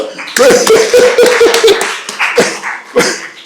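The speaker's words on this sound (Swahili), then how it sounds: "Kwa hiyo nadhani tuwapigie makofi hao jamaa." An audience at the Chief Justice of Tanzania's opening of the annual judges' meeting breaks into scattered clapping. The claps come as sharp, uneven bursts for about three seconds, mixed with a voice sustaining a tone above them.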